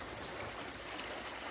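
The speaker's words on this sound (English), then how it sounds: "Lovely waterfalls" Waterfalls at a koi farm pond, a brief, faint, steady rush of falling water with no voices.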